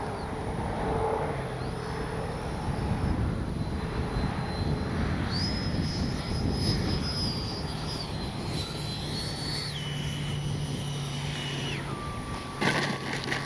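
A Freewing 90mm F4 radio-controlled jet flies overhead, with a steady roar and a high turbine whine whose pitch climbs, holds and then drops as the model passes and moves away.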